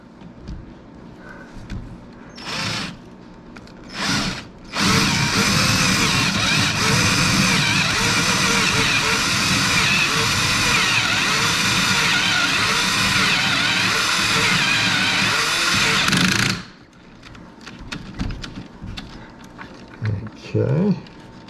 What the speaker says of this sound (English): so next we're going to drill that hole